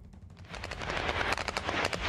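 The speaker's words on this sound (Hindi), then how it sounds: "ये पंजशीर का इलाका है जहां पर गोलीबारी की आवाज आप सुन सकते होंगे।" Rapid bursts of gunfire crackle in the Panjshir region of Afghanistan, a dense volley of sharp reports building in loudness over two seconds with no talking.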